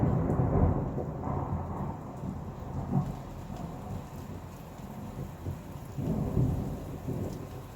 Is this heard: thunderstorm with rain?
yes